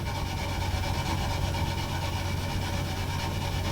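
Steel wool is rubbed steadily across the surface of a Peavey JF-1 guitar, making a continuous close, dense scratchy scrubbing with no breaks and no speech.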